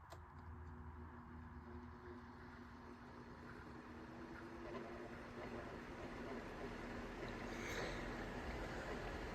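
A 16-inch Wond And Main pedestal fan with very dry motor bearings, running on its first speed, gives a steady, moderately loud whirring hum with a faint tonal drone that holds evenly throughout.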